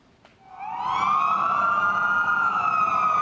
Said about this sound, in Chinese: 鸣笛声响起，多辆消防车、救护车紧急出动